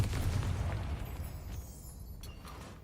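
A Confringo fire spell bursts in Hogwarts Legacy as a muffled, booming explosion that decays over a couple of seconds, with no voices over it.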